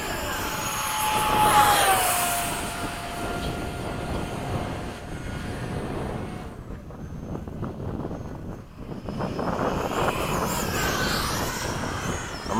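Small FMS 70mm electric ducted-fan F/A-18 model jet passing overhead at a model airfield at sunset, a steady whooshing whine that swells loud early, fades in the middle and builds again, with wind buffeting.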